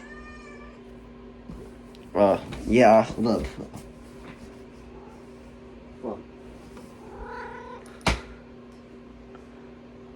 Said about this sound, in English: I see my cat.